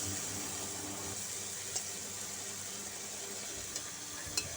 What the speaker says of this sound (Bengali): চলো চিংড়ি মাছটা ভেজে নেওয়া যাক